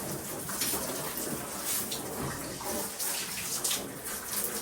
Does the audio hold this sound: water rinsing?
yes